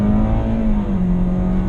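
A 2019 Toyota Corolla Hatchback engine revving up close, a loud steady drone with a rising then slightly falling pitch.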